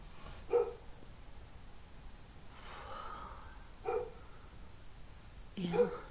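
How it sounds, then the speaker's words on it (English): A pet dog barks indoors in a quiet room, giving three short, moderately loud barks spaced a few seconds apart, with faint breathing between them. "If she heard me, why does she bark?"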